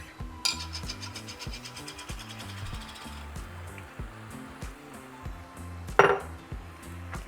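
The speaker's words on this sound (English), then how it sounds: "we're going to add 24 ounces of our pasta sauce" Twenty-four ounces of pasta sauce goes into drained cooked meat in a pan and is worked in. A utensil scrapes softly against the pan in a steady rhythm, broken by a few sharper metallic clinks.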